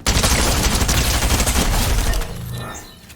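Rapid Fortnite gunfire in a solo match, dense close shots rattling continuously for about two seconds before cutting off into a quieter tail.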